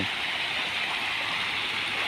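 Steady, loud rush of water pouring continuously over a weir after rain, a broad hissing roar with no voices.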